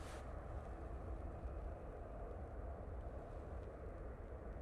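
Ryanair jet from Cork on short final into Manchester Airport runway 05 left, a distant steady engine rumble and rushing roar that holds level throughout, with no one talking.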